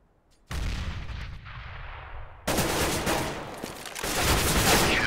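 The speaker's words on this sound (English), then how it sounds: "I'm throwing a grenade." A grenade blast followed by heavy gunfire in Counter-Strike: Global Offensive on de_mirage during a competitive match, a sharp loud burst at the start and then a second crash of dense, rattling fire that swells toward the end.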